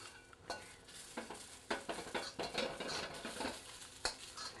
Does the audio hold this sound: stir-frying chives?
yes